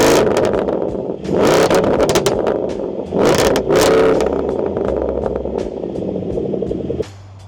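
The supercharged V8 of a Land Rover Defender P525 revs hard twice in loud, close blips, then settles into a throbbing idle before cutting off abruptly.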